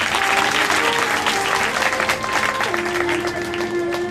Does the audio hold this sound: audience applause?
yes